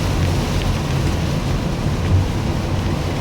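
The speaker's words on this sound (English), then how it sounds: "It just started raining out of nowhere. And hailing." Sudden rain with hail falling outdoors, a loud, steady, dense hiss and rumble that fills the whole stretch without a break.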